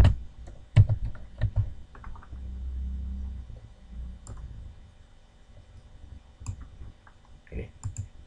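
Typing on a computer keyboard while filling in a salary spreadsheet, close uneven bursts of key clicks with pauses between them, and some quiet speech in the background.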